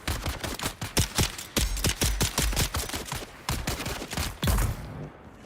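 An automated turret in the video game Dune: Awakening fires a rapid string of loud, sharp gunshots in quick bursts, close and dominant, ending in a brief pause.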